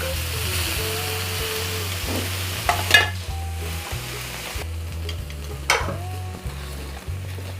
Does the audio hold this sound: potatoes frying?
yes